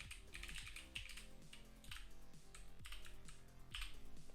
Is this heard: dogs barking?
no